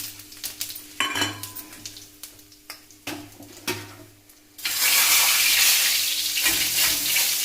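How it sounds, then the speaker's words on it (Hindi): Cumin and asafoetida hit hot oil in a pan, with a few utensil clinks and taps first, then a sudden loud, steady sizzle that carries on to the end with no talking. "अब हमारा तेल गरम हो गया है। अब मैं पहले इसमें जीरा डाल दूंगी, फिर जरा सी हींग डालूंगी"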